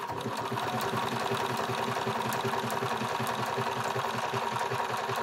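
A Bernina sewing machine stitches a manual buttonhole, its needle mechanism running in a fast, steady mechanical whirring and clatter that stays close and continuous throughout.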